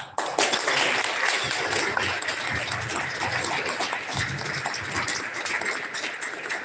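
Audience applause at a congressional candidate debate in Rockford, Illinois, a dense steady clapping from a seated crowd that starts abruptly and holds for several seconds in a large room.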